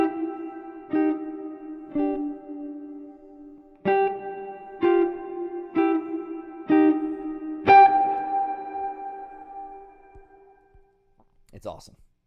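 Electric guitar notes and chords played through a Strymon Flint reverb pedal, picked with varying attack in a halting rhythm of separate hits, each ringing out into a long, lush reverb tail that decays to near silence.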